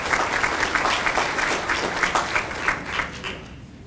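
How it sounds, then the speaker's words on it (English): A ceremony audience gives a round of applause for visiting school guests, a sustained wash of many hands clapping at moderate volume that thins and fades toward the end. "give them a round of applause."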